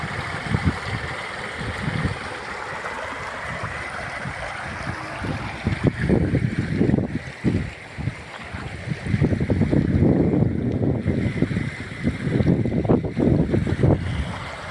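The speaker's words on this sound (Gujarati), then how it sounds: "કેવો જોરદાર પાણી જાય છે." Strong floodwater rushing through a village street during heavy rain, a loud continuous roar of flowing water with gusty wind buffeting close by.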